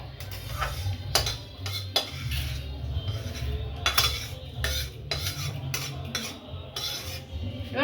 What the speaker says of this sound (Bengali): এবার কড়াই বসিয়ে দিলাম।